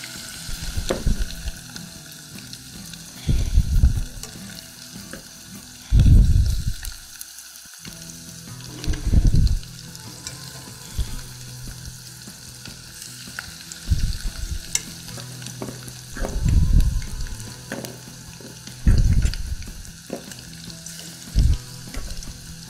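Chicken pieces, about 250 grams, frying in a pan with a constant loud sizzle, punctuated by repeated heavy stirring and scraping bursts at irregular intervals, with no voices.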